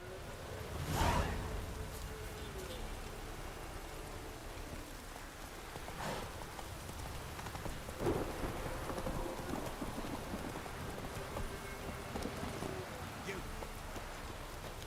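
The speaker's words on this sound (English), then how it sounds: "This downpour's a bastard, it is." Steady heavy rain in the video game The Witcher III: Wild Hunt hisses throughout, with a few brief louder splashes or thumps rising above it and faint voices in the background.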